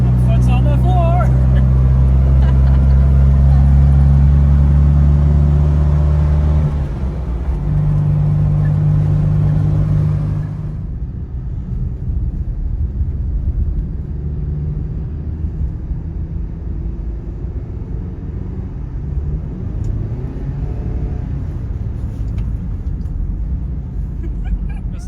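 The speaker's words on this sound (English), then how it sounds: "We're in our new car. Foot's on the floor." A classic Fiat 500 accelerates at full throttle with a strained, droning engine tone that climbs and then shifts down as the pitch drops, leaving a rougher road rumble. Voices may be faintly present under the engine.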